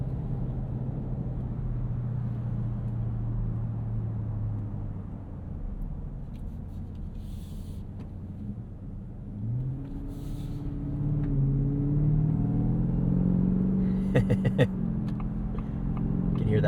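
Supercharged V8 of a 2024 Ford F-150 Raptor R, rated at 720 hp, carries a steady low engine drone through a morning commute, with pitch rising toward the end as the supercharger whine builds.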